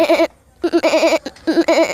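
Loud, close goat-like bleating comes in three quavering, nasal bursts, the middle one the longest, separated by brief silences.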